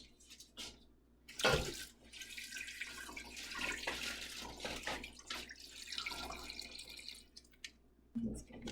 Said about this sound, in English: Go ahead and cover it with water to your wrist.